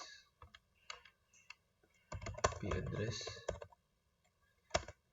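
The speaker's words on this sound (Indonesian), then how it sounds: "Kita ketik dulu IP address" An IP address is typed on a computer keyboard in sparse, separate keystrokes, with a burst of quicker clacking in the middle. A voice speaks briefly partway through.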